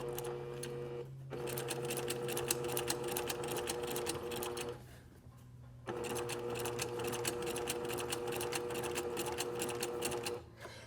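A sewing machine runs in long steady bursts while stitching fabric, with a brief pause in the middle and a short stop near the end. The rapid mechanical chatter is close and loud.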